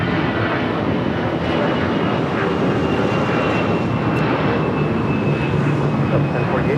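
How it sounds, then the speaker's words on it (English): A United Airlines Boeing 777-200ER from Newark on final approach to LAX's south side, its jet engines a loud, steady roar that holds throughout, with a faint radio voice under it. "Next arrival here on the south side is United Airlines Flight 399 coming in from Newark, 777-200ER."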